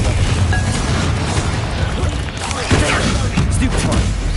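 A Confringo fire blast spell in the Hogwarts Legacy video game erupts in a dense, roaring burst with crackling booms that carry on for several seconds, mixed with game noise and background music.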